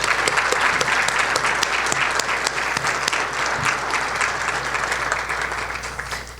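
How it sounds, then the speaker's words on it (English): Audience at a Teacher of the Year ceremony applauding the teachers, a dense, steady round of clapping from a sizable crowd that tapers slightly toward the end. "I think we should applaud the teachers again"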